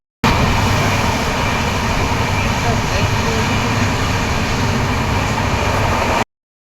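Inside a moving passenger train, a loud, continuous rumble and rattle holds steady from start to finish.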